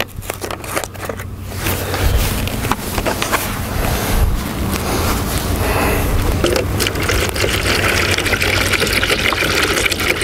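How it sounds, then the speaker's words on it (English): Mildew remover poured into a cut-open plastic jug for dipping a brush, a continuous splashing, gurgling stream with some scraping and handling clatter, close and fairly loud. "That's what I'm going to use for pour my stuff in to put my brush in and dip it."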